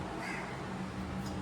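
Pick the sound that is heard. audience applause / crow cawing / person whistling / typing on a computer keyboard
crow cawing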